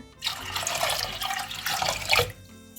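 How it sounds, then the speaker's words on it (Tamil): Water pours from a tap into a pot for boiling rice in a Jaffna-style kitchen, a close splashing stream that surges and then cuts off. "நான் இந்த அரிசி அவியறதுக்குரிய தண்ணி சேர்க்க போகிறேன்"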